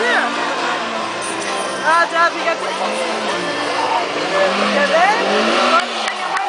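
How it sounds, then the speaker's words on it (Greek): A 2-litre Renault Clio rally car races past in a time trial on Lesvos, its engine revving hard and tyres squealing, loud and close, under a crowd's babble and a commentator talking. "Ένα Clio, δίλητρο, πολύ ωραίο αυτοκίνητο."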